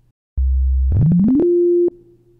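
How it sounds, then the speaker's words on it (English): A clean synthesized sine-wave tone in GarageBand holds low, then slides upward in steps to a higher steady pitch before cutting off abruptly. "The initial instrument that's loaded is a sine wave."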